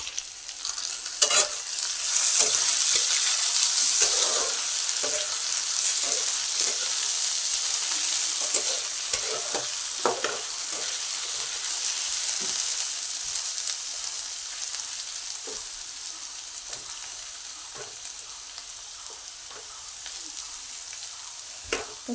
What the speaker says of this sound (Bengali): আর এদিকে আলু পেঁয়াজটা ভাজা করছি